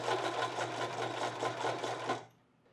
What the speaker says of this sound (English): I simply top stitch from there all the way around over to the other side.